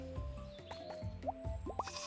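A sheep in the farming game Roots of Pacha bleating softly among short wet squelching and dripping blips, brief and quiet under a light game background.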